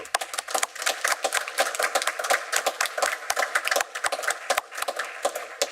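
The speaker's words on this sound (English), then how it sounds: "let's give them a round of applause" Audience at a county board of commissioners meeting gives a round of applause, a sustained patter of many hands clapping in a room, fairly steady for several seconds with slight swells.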